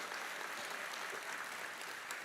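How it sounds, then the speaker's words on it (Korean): Brief, fairly faint crowd applause at a Democratic Party leadership candidates' rally in Chungbuk, an even wash of many hands clapping without speech. "힘찬 박수 한번 부탁드립니다"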